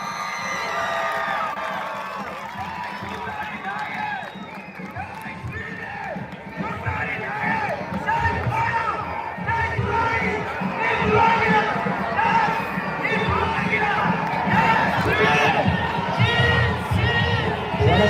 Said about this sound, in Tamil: எங்கே உங்கள் கரகோஷம்